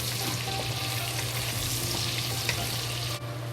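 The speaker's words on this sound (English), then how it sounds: "slowly fry until the scallion and the ginger release good smell" Ginger, scallion and bacon frying in a pan, a dense, loud, continuous close sizzle that holds steady throughout.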